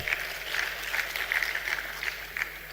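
Audience applause at a Nigerian Immigration Service 60th anniversary celebration, steady clapping from a large crowd with no speech over it.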